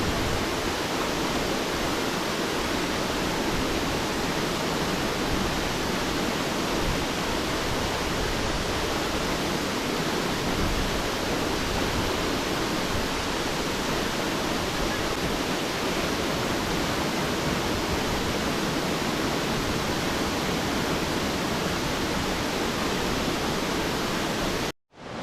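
A waterfall near Banyuwangi, Indonesia, roars as a dense, steady rush of falling water, loud and close, unbroken for the whole stretch until it cuts off abruptly at the end, with no voices.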